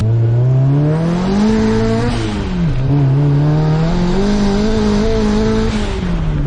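A turbocharged Mazda Miata on narrow 185 tires spins its wheels, the engine droning loud and close for the whole stretch, its pitch climbing, dipping and swelling as the tires fail to grip.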